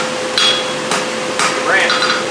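A horseshoe is hammered on an anvil, giving four sharp, ringing metallic blows about half a second apart, close and loud against a faint steady hum.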